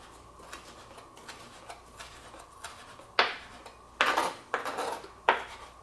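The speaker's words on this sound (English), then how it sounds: "I took the basil off of its stem, and then I just chop it up like this" A knife chops fresh basil leaves on a cutting board, light ticking taps at first, then several sharper, louder knocks in quick succession, close and alone.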